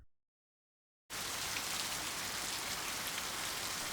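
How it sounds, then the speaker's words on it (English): Steady rain falling on a rainy morning, starting abruptly after a second of silence and then continuing as a dense, even patter with no voices. "Rainy morning."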